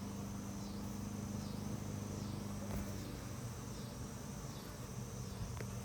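Honey bees buzz during a hive inspection, a steady low drone of many bees under a faint, even chirping hum, with no voices.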